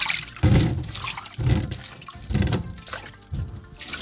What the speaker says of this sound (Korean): 먼저 메추리알 600g을 찬물에 두세 번 깨끗이 씻어줍니다.